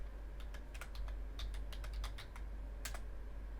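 Quick, irregular keystrokes on a computer keyboard while entering Linux commands, faint clicks in short bursts with a pause before a final cluster, over a low steady hum.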